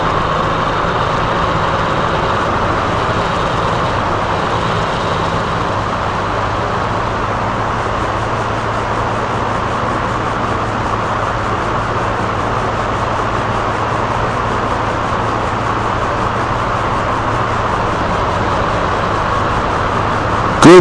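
An aircraft engine hums steadily while taxiing in the Flight Simulator X game, a loud, unbroken low drone with broadband rumble and no change in pitch, with no voices over it.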